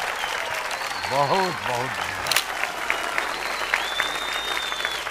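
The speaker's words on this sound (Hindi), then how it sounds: "तालियां।" A studio audience on a Bhojpuri game show claps in a steady, sustained burst of applause, while a voice speaks briefly over it near the start.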